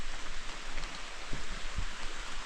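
Rain falling at a riverside campsite along the Tug River in summer, a steady soft hiss of drops on leaves and surfaces with no voices, even and continuous throughout.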